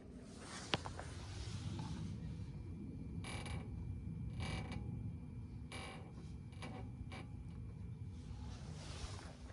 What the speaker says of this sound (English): And it creaking and squeaking, getting in and out of the car, turning the wheel.